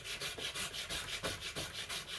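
Wood is scraped from the belly of a yew bow during tillering in quick, rhythmic strokes, a soft, close rasping that repeats evenly about four times a second.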